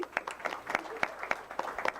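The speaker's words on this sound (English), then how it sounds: "Give her an applause" A handful of audience members clap sparsely at a Washington Township Public Schools board of education meeting, a few distinct claps scattered across two seconds at a moderate, slightly distant level.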